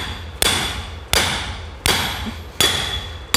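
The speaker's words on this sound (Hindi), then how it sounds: "इसी लाग पे आप हथौड़ा लगा के इसको बिठा सकते हैं।" Hammer blows seating a bushing into a submersible motor part, with four sharp, loud metallic strikes at steady intervals, each ringing briefly before the next, and no talk.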